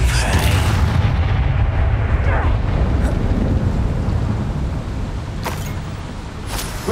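Confringo explosive spell cast in the video game Hogwarts Legacy inside a mine, a loud roaring blast with a rumbling boom that rolls on for several seconds and slowly fades, with sharper crackles near the end.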